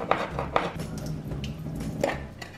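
A can of corn being opened in a home kitchen gives off a few sharp metallic clicks and scrapes, spaced irregularly and close by, with light clattering in between.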